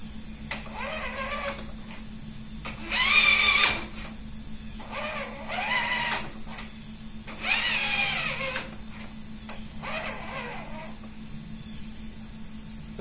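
Trolling motor, powered up and running, turns its shaft swivel cap in repeated bursts of about a second each, with short pauses between them. Each burst is a close, whirring electric motor whine, and a steady low hum continues underneath throughout.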